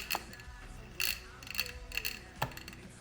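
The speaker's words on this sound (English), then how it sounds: "We can test it right now too, to see if the impeller turns." The pump impeller of a Bikemaster parts washer turns during a bench test, giving sparse mechanical clicks and ratcheting ticks at irregular intervals, fairly close and quiet.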